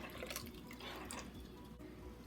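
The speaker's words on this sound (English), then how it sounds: "next we're going to add in 2 cups of evaporated milk" Evaporated milk is poured into a pot of cooking rice for rice pudding, a faint, steady liquid stream with soft dripping and splashing running throughout.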